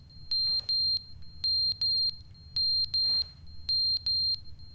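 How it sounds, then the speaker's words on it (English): An alarm blaring in The Stanley Parable video game: high-pitched electronic beeps in pairs, repeating in a steady rhythm, loud and close over a low rumbling background. "Alright, well there's an alarm going off."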